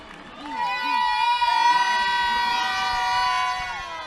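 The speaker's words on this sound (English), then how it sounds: "his family's behind us screaming, howling, cheering him on" At a Chicago Police versus Chicago Fire baseball game, family members scream, howl and cheer after a home run, their loud sustained shouts and whoops filling the clip, with bits of nearby talk underneath.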